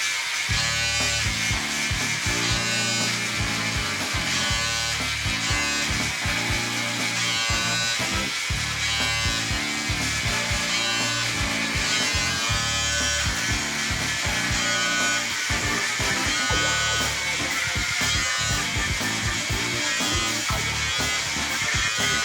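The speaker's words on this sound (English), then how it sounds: "I have a foil attachment to my cheap Remington clippers. And you just stick this on, and then you go over it" Cheap Remington electric clippers fitted with a foil attachment buzz steadily while trimming beard stubble, a close, continuous shaver drone with small shifts in tone as the head moves over the skin.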